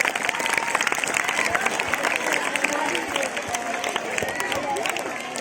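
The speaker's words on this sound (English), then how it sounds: "please give a round of applause for Gagan Millar" An audience in a seminar hall breaks into steady, dense applause, many hands clapping together at moderate loudness for several seconds, with murmuring voices mixed in.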